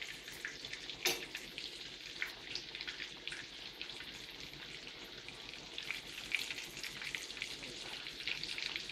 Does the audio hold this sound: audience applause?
no